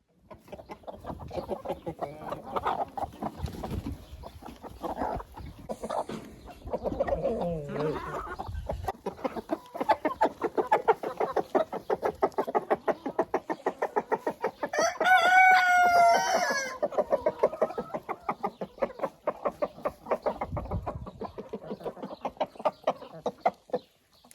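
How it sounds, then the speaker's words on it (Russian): Hens clucking busily as they peck at scattered wheat, with a rooster crowing midway through and a voice speaking now and then over the steady, close flock. "Сейчас куры полакомятся пшеницей."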